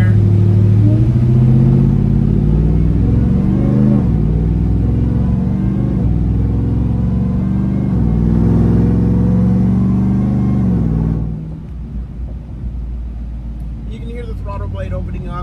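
A supercharged Ram TRX pickup accelerates in sport mode, its loud, close engine rumble climbing in pitch before easing off near the end, with a voice talking over it.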